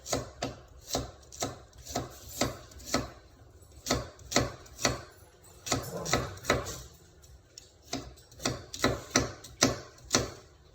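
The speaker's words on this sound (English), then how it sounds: "So after my carrots are peeled, then I just slice them." A knife slices peeled carrots on a cutting board for albondigas soup, with steady, close, rhythmic chopping taps repeating throughout.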